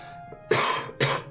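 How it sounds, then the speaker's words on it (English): Two sharp, harsh coughs in quick succession, close and loud, over a faint steady hum. "Sorry for the coughing."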